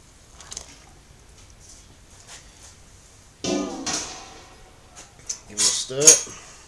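All-grain IPA mash in a pot gets stirred during mash-out after near-boiling water is added, with faint early clinks and then louder scraping and sloshing bursts near the end, and a voice briefly talks underneath.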